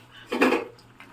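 Chicken being stirred together with chicken masala in a pan, heard as a short scrape and clatter of utensil against the pan lasting about a third of a second, followed by a faint knock, with no talking.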